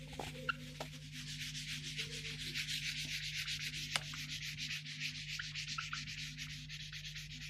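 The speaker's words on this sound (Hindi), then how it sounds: "अब मैं यहाँ से इसको रब कर रहा हूँ।" Writing is rubbed off a board in a math class, a soft, continuous scrubbing that keeps a steady rhythm with a few light knocks, close and quiet with no voices.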